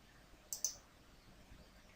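Two quick computer mouse clicks sound close together near the middle while a crossword puzzle is worked on screen, faint and alone against quiet room tone.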